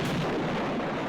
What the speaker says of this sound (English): I really like the over-the-top explosions.